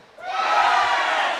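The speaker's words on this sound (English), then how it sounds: "Listen to this crowd." A crowd at a live professional wrestling event roars in a sustained, loud swell of cheering that builds quickly and holds steady.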